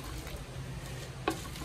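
Chana dal, dried red chillies and coriander dry-roasting in a pan give a soft, quiet sizzle with light stirring, and a brief scrape of the spoon comes near the end.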